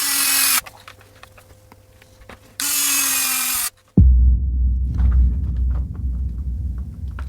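A power tool drives two screws into the cover of an RC car receiver box on an ARRMA Granite 4x4, two loud, close whirring bursts separated by quiet handling, followed by rustling and clatter.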